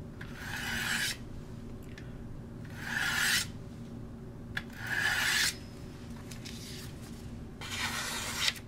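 A Global G4 chef's knife is sharpened in four slow, evenly spaced rasping strokes, each a close, gritty scrape of about a second, separated by quiet pauses, with no talking.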